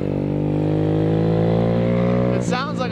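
A small scooter with its exhaust baffle removed revs hard and close, giving a loud, buzzing, raspy drone that holds steady before dropping and wavering near the end.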